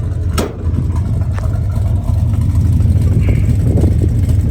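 A 1970 Chevrolet Chevelle engine idles steadily with a deep, even rumble, close and continuous through the whole stretch, with no voices over it.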